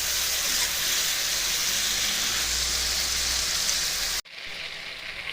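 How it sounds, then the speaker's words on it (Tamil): Brinjal curry roasting and frying in a pan gives a steady, dense sizzle that holds for about four seconds, then cuts off sharply and continues more faintly, close up with no talking. "இதில் வதங்கினுச்சு, நல்லா ரோஸ்ட் ஆகிருக்கு."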